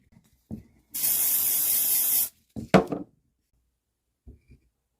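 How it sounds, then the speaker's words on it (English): A steady hissing spray of CA glue accelerant lasting over a second, followed by a few sharp clicks and taps, then quiet with faint soft knocks. "I prefer to apply the glue and then apply the spray and then push them together though."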